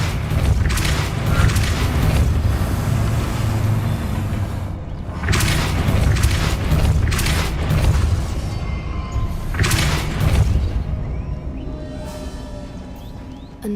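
A Depulso spell is cast in the video game Hogwarts Legacy, setting off a loud, rumbling crash that repeats in several heavy bursts with a continuous low roar between them, and nobody talks.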